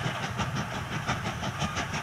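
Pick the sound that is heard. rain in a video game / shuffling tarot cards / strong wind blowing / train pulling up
train pulling up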